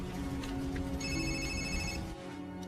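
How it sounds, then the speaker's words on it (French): A telephone rings in short electronic bursts, one clear ring tone sounding for about a second in the middle over a constant background hum. "C'est un bruit de téléphone?"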